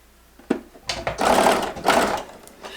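Sewing machine stitching quilt fabric for a waves wedding-ring quilt around curves: a click, then two close bursts of rapid mechanical needle chatter with a short pause between, fading to a quieter run at the end.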